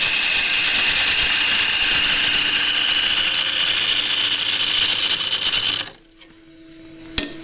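A lathe tool cuts a green wood bowl, giving a steady whirring hiss of the spinning blank and tool on wood for several seconds, then the cutting stops abruptly, leaving a quieter hum and a small knock.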